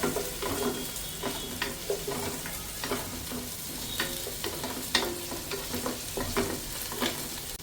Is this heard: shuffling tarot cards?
no